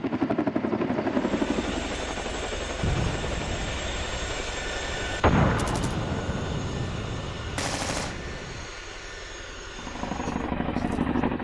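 A Chinook tandem-rotor military helicopter thunders nearby with a heavy, rapid rotor chop and engine roar, loud and continuous, swelling and easing slightly with a few sharp bursts.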